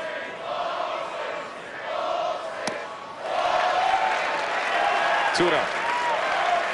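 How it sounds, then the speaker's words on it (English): A college baseball crowd at an LSU at Texas A&M game yells and cheers around the ballpark, swelling louder in the second half while a commentator talks over it. "you hear it from any opposing pitcher here now yelling ball 7, ball 7"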